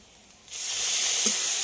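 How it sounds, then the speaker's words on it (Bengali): Large tomato paste hitting frying onions in a hot pan, a quiet start that bursts into a loud, sustained sizzle which holds steady until the end, with faint clinks under it. "এবার এতে দিয়ে দিচ্ছি একটা বড় সাইজের টমেটো পেস্ট করে নিয়েছিলাম সেটাকে।"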